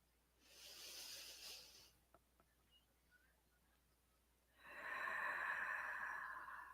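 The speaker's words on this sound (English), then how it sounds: "do a couple deep breaths from our breathing week" Deep breaths during a mindfulness exercise: a slow, close inhale, a quiet pause with small mouth sounds, then a longer, louder exhale, all soft and unaccompanied.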